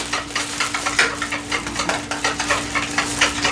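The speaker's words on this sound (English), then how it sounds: "I'm going to start by whisking up the eggs" Eggs beaten with a utensil in a bowl for French toast, a quick rhythmic tapping and swishing repeated several times a second, close and clear with no talking.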